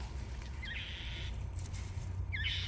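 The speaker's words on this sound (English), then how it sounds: "If you hear that little bird in the background, that is my mockingbird." A northern mockingbird singing in a backyard fruit tree, two short chirping phrases rising and trilling, faint and somewhat distant over a low steady background hum.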